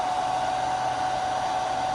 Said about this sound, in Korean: 시작을 누름과 동시에 드라이기를 켜보겠습니다